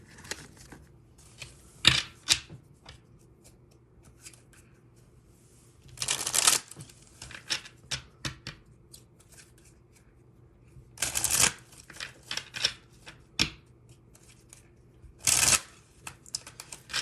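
A deck of playing cards being shuffled in several separate bursts of riffling and rustling, each lasting about a second, with quiet pauses and small handling clicks between them, close up and with no talk.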